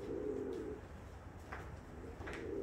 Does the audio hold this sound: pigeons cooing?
yes